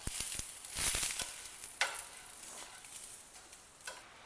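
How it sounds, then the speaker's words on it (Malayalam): Maggi noodles fry in a pan with a soft, steady sizzle while being stirred, with scraping clicks from the utensil and a louder burst of frying near the start, no talking. "ഇപ്പോൾ ഗൈസ്, ഞാൻ ഇതിലോട്ടിൻ്റെ മാഗി ഇട്ടിട്ടുണ്ട്. അപ്പോൾ നമുക്കിനി വേഗം ഒരു ഇത് യൂസ് ചെയ്തിട്ട് ഇതിങ്ങനെ ഇളക്കി കൊടുക്കാം."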